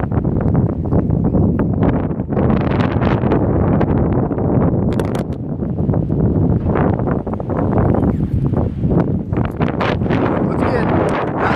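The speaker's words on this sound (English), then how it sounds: "Man, it is windy." Strong wind buffets the microphone in a constant loud roar, with gusty rumbling throughout and a person talking faintly underneath.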